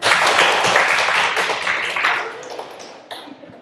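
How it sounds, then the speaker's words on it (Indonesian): A room of teachers at a school sharing session claps together, a brief burst of many hands that starts loud and fades out within a few seconds. "Tepuk tangan."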